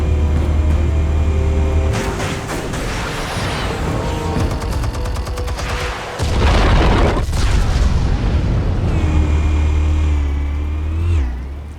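Deep booming detonations and rumbling blasts of explosives in Batman: The Telltale Series, loud and dense with crackling debris and layered tonal hum throughout.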